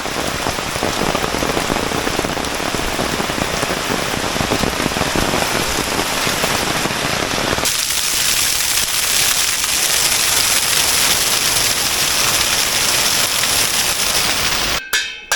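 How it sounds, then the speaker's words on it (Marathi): Steady, dense downpour of heavy monsoon rain in Konkan drumming on surfaces throughout, loud and continuous with no voices, cutting off abruptly at the end. "नागपंचमीच्या दिवशी देखील खूप मुसळधार पाऊस पडतो आहे"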